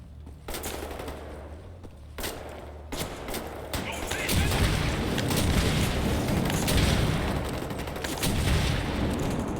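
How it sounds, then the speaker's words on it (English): Dual-wielded rocket launchers firing in Wolfenstein: The New Order on a high difficulty setting, a barrage of rapid booming blasts and gunfire building into a dense, continuous roar of explosions, loud and close, with someone talking intermittently. "5 kills within 10 seconds using dual-wielded rocket launchers"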